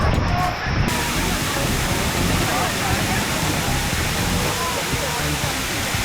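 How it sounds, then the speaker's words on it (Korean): A tall, wide waterfall in Cebu, Philippines, pours with a constant, loud, full rushing roar of falling water that stays even throughout. "폭포 높이부터 압도적이고 넓게 펼치는 물줄기가 굉장히"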